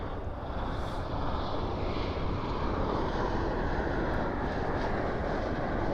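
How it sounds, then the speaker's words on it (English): An American Airlines Boeing 737-800 arriving at DFW airport at night makes a loud, continuous broadband jet rumble that holds steady throughout, close and dominant, with no voices. "Oh, we have a flight coming in."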